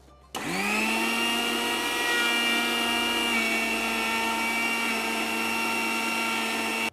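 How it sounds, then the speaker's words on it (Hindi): A mixer grinder whirs steadily at high speed, grinding spices into a powder that is on its way to becoming a paste. The loud, continuous motor whine starts abruptly and runs without a break and without speech. "तो जब तक ये पेस्ट ना बन जाए इसे ग्राइंड करते रहना।"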